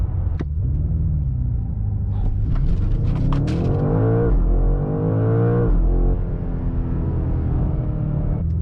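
A 2025 BMW M5 with a small gear lever accelerates hard in a 0-60 test. The engine swells from a low rumble into a loud, rising roar that climbs through gears, then settles back to a deep idle.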